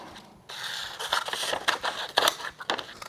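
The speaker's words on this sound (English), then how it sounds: "we are going to cut our template out." Scissors snip through a paper template for a 1967-72 Chevy C10 door latch upgrade, a run of close, crisp cutting and rustling strokes after a brief quiet start, with no talking.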